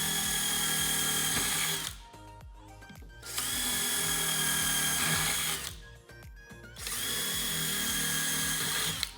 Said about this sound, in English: So we're just gonna continue to drill all of these holes out